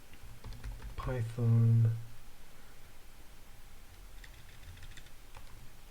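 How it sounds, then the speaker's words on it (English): Quiet, steady clicking of keys on a computer keyboard as a web address is typed in by hand, with a short spoken word near the start and faint key taps continuing afterward. "I'll type that in manually."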